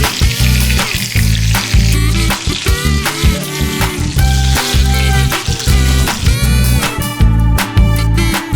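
Chicken nuggets fry in a deep layer of hot oil, giving a loud, steady sizzle with crackling pops and bubbling that run unbroken throughout, with no talking.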